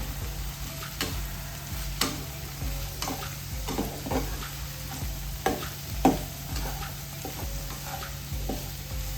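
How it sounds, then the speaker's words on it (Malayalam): A coconut and crushed chilli mixture stirred in a pan over low heat, with a steady soft sizzle and scattered scraping clicks of the spoon at an even pace, close and alone. "ഇനി ഇതെല്ലാം കൂടെ നല്ലതുപോലെ ഒന്ന് മിക്സ് ചെയ്യാം"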